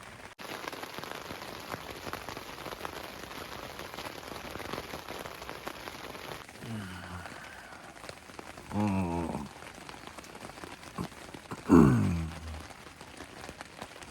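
Steady rain patters on a hard surface throughout, dense and close, with a few brief louder sounds breaking through near the end.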